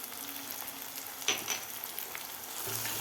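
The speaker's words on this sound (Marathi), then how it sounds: "आता हे सुद्धा आपल्याला व्यवस्थित तेलामध्ये परतून घ्यायचं आहे, मसाला आणि लाल तिखट." Sambar masala and Kashmiri red chili powder sizzle softly in hot oil, with a few brief stirring scrapes and taps over a quiet, steady frying hiss.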